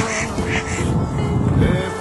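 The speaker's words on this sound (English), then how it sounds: "The ducks, of course, are not worried." Ducks quack loudly and close by in a short burst of overlapping calls, beside a small lake in Canterbury.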